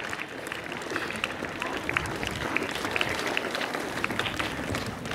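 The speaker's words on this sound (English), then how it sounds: "Please give a thundering round of applause." Applause at a school sports day opening as guests take the stage, a fairly quiet, diffuse spread of clapping from an outdoor crowd with some background chatter mixed in.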